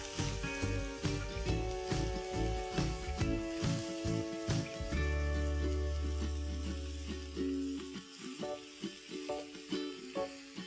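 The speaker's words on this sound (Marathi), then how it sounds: "ही मुळ्याची पानं 1 मिनिट आपण परतून घेऊया।" Chopped radish leaves sautéing in a hot pan, a steady close sizzle with frequent scraping and clinking stirs and a low rumble in the middle, no voices.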